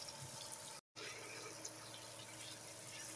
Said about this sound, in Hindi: तो यहाँ पे मैंने 2 कप पानी माप के रखा था वो डाल दिया है।